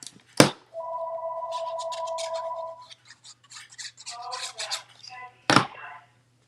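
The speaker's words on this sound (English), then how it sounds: "The other phone's going to keep ringing" A nearby telephone rings in one sustained, steady two-tone burst lasting about two seconds, framed by sharp clicks and followed by soft rustling and handling noises.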